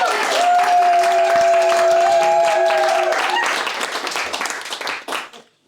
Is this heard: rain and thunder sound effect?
no